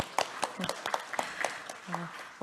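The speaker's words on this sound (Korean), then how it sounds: "박수를 한번 좀 해드려야 되지 않을까 싶은데요" Scattered clapping at a government innovation forum on public-sector AI, a few separate hand claps in a loose, uneven rhythm, fairly faint, with voices talking among them.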